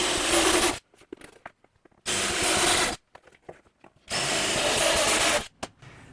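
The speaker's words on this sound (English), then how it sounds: "I'll use a step drill to drill the holes in the sheet metal." A power drill with a step drill bit whines loudly in three bursts of roughly a second each, biting through thin sheet metal with a harsh, grinding screech, separated by quiet pauses.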